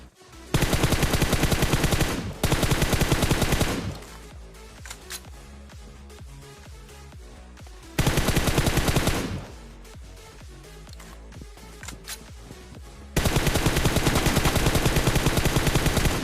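Rapid automatic M4 rifle fire in a battle royale video game, three long sustained bursts separated by quieter stretches of game sound.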